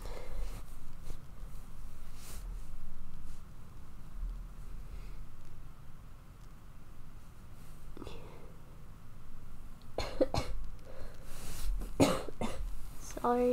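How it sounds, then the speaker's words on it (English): A sick woman coughs a few times close to the microphone in a quiet room, short dry bursts mixed with breathing and soft speech. "I'll try not to cough in your ear."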